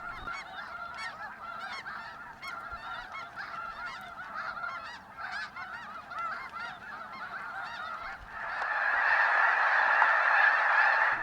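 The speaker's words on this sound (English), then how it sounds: "the sudden and raucous liftoff of thousands of snow geese" A huge flock of thousands of snow geese in a Sacramento Valley wetland honks in a dense, raucous chorus, swelling into a louder roar of calls and wingbeats as the birds suddenly lift off together near the end.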